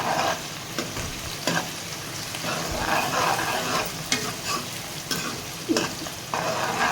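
Steady, loud crackling sizzle of hot oil tempering for bottle gourd chana dal in a pan, with occasional sharper pops and stirring bursts throughout; no voices.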